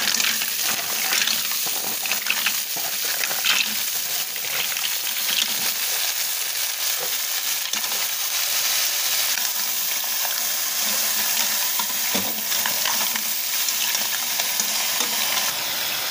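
Mussels and onion sauté in a hot pan with a steady, loud sizzle and stirring scrapes that run continuously throughout.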